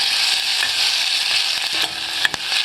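Steady, bright sizzle of onions frying in olive oil over medium-low heat, close and continuous, with a few faint clicks and stirring taps near the end.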